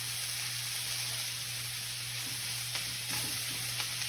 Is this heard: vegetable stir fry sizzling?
yes